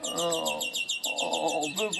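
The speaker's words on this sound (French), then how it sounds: "Vous voyez, les oiseaux, ils chantent." Birds sing in a repeated series of bright, quick chirps and trills close by, while someone speaks French beneath them throughout.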